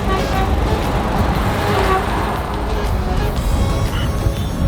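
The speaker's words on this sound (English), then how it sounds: "This is rush hour Grenada right here." Rush-hour street traffic in Grenada: a dense, continuous wash of cars, buses and trucks passing nearby, with occasional horn toots cutting through the steady road noise.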